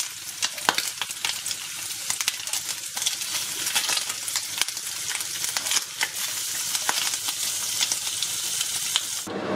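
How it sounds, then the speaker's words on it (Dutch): Onion rings fry in butter in a pan with a steady, bright crackling sizzle and scattered pops, continuous and close, with no voices. "Inmiddels zit er boter in de pan en dan gaan de ringetjes ui bij."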